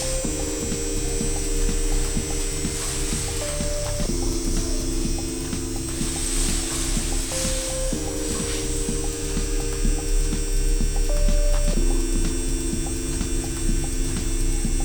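A permanent makeup machine buzzes steadily while applying lip pigment, a close mechanical hum whose pitch steps up and down in a repeating pattern, with no talking.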